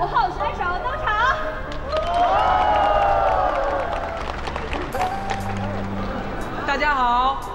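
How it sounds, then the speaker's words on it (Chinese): A dense crowd claps and cheers steadily as a contestant walks onto a stage show, a continuous wash of applause with a raised voice briefly carrying over it. "热烈的掌声，更期待的表情，欢迎我们的五号选手登场"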